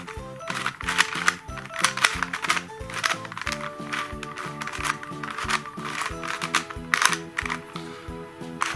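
A Rubik's cube is twisted through a solving algorithm, producing a rapid, steady run of crisp plastic clicks and clacks close up, with no talking.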